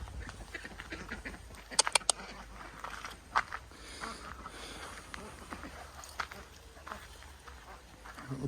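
Ducks quack intermittently in a walled garden among chickens, with a few sharper calls standing out over steady outdoor background and nearby people talking.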